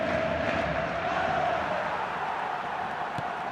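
Stadium crowd in the eFootball 2022 football video game, a steady dense roar of cheering that fills the whole stretch without a break, with no voices speaking over it.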